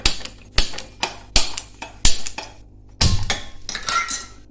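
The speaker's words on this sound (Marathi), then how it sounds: "आता इथं हे भांडं मी फोडणीला घेतलेले आहे" A metal pot is set down on a stove for tempering spices, with several sharp metallic clanks and knocks, spaced irregularly, close up and fairly loud.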